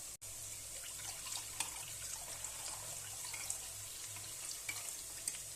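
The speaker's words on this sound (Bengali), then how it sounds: "এর মধ্যে একটু জল পাইল করে দেবো।" Water poured into a bowl of batter for veg Manchurian, a steady close-up trickling wash running evenly for several seconds with a few faint clinks, no voices.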